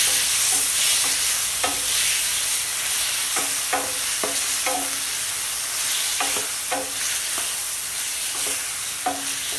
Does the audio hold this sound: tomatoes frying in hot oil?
yes